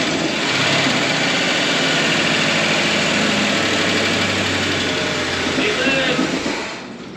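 An old Cummins diesel engine runs steadily after being started, a loud continuous rumbling drone that holds for several seconds before easing off slightly at the end.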